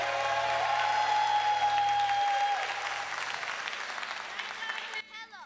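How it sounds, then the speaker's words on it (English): Audience applause at a Saturday morning church forum, a crowd clapping steadily under organ or keyboard tones, gradually thinning out as the music shifts, with a sustained tone fading near the end. "Give Mr. Simmons a loving round of applause."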